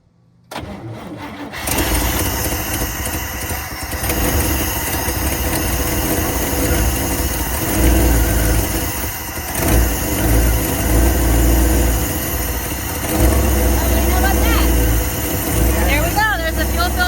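The engine of a 1954 Cadillac, started after a spark problem and a flooded carburetor, catches after a brief crank and then runs steadily at a loud, close idle, with voices talking over it.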